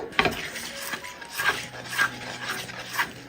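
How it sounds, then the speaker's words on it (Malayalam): A spoon scrapes and stirs a thick carrot dessert mixture in a pan, soft rhythmic strokes repeating about every half second, close and fairly quiet. "വീണ്ടും ഇളക്കി കൊടുത്തോണ്ടേയിരിക്കുക"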